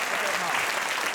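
Studio audience applause on a comedy panel show, a steady dense wash of clapping filling the whole short stretch with no gaps.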